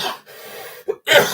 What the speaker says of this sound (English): Apologies again for the coughing.